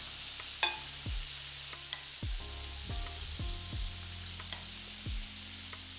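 Floured shrimp frying in oil, a low steady sizzle with several hollow knocks and clinks from the cookware scattered through it, no voices.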